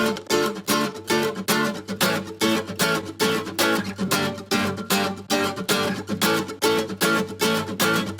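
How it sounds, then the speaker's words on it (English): A chorus rhythm guitar plays loud, evenly spaced chopped strums in a steady repeating pulse, each stroke sharp and bright, continuing without pause and with no voices. "in the chorus, the rhythm guitar starts playing."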